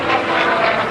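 Propeller aerobatic airplane climbing over the top of a loop during a military air show at Langley Air Force Base, a steady droning engine roar heard alone at moderate distance.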